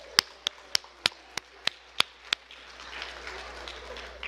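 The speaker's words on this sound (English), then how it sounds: "let's get a round of applause for our cooks." A women's church gathering claps for the cooks after lunch: a string of sharp, evenly spaced claps, then a softer, murmuring room noise.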